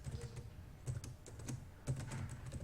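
Python code being typed on a computer keyboard during a Seaborn data-science lesson, steady quiet keystrokes in quick irregular runs, close but faint, with no speech.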